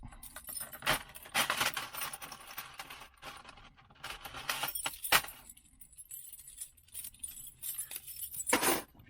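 A bunch of keys jangles and clinks as they are handled and picked through while making a key for a sash window lock, several bursts of metallic rattling close up with quiet pauses between.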